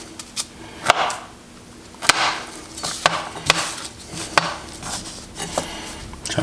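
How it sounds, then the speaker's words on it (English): A knife chops raw beef into small cubes on a cutting board for grinding hamburger, sharp irregular thwacks coming close together, near and fairly loud with no talking. "So just keep chopping."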